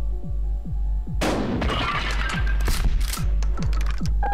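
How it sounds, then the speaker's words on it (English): A shotgun is fired at the dealer in the video game Buckshot Roulette. One sharp, loud blast with a noisy tail follows a run of low, regular thumps that go on steadily before and after it. "now I'm going to shoot the dealer"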